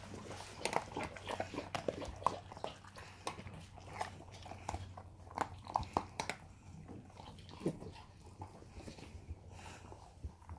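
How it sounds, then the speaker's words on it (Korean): Puppies eating dry kibble, with close, soft, irregular crunches and chewing clicks scattered over a quiet room background, plus a faint whimper or two. "오독오독 먹는 소리가 힐링을 주는 소리예요."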